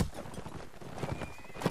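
A horse gallops and neighs in the video game Mount & Blade: Warband, with rapid hoofbeats clattering throughout and a loud whinny breaking out at the end.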